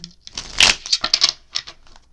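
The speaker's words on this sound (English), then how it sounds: "I keep shuffling. Every day I'm shuffling." A deck of cards being shuffled by hand, a short run of soft riffling flutters and taps up close, quiet and without talk.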